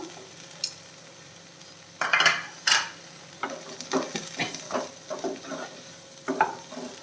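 Mushrooms for a mushroom masala are tipped into a hot pan and stirred, giving a soft sizzle with a few louder scraping bursts and then a run of quick, regular spatula strokes, close up with no talking.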